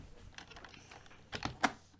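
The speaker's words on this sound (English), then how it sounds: "So type LAP" Several quick keystrokes on a computer keyboard, soft and close, with a louder burst of clicks near the end, alone without talk.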